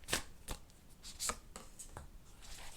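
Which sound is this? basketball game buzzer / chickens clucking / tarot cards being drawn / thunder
tarot cards being drawn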